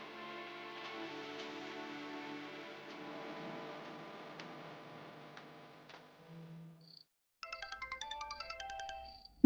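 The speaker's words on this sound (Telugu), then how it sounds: "మేడం గారు కాల్ చేస్తున్నారు." A mobile phone ringtone for an incoming call plays loud and repeating in a rapid rhythmic pattern during the last couple of seconds, following quieter indoor background sound from a TV drama scene.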